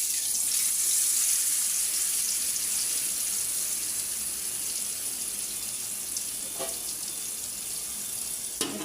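Fish frying in hot oil in a pot gives off a steady, even hiss throughout, with a few brief sharper spatters near the end and no voices.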